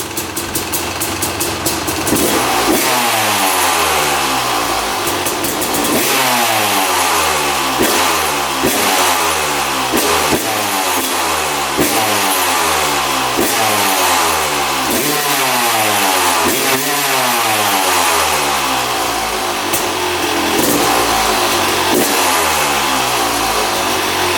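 A dirt bike engine, once a non-runner, idles loudly and revs again and again in short bursts, each rev rising and falling back to a rough idle.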